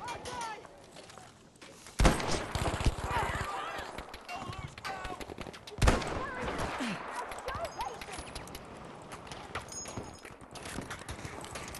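Gunfire in Battlefield 5 Breakthrough, with sharp shots at scattered moments over a busy battlefield din, while a person talks.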